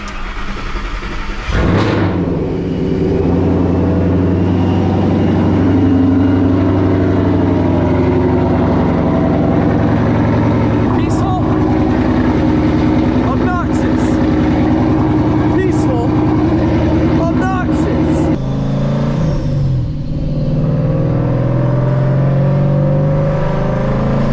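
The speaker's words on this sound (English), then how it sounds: "I'd like to start this off by just driving around town while the car warms up a little bit" A Paxton-supercharged S197 Ford Mustang driving around town while warming up, with a steady, loud engine rumble and a few shifts in pitch, a person talking over it throughout.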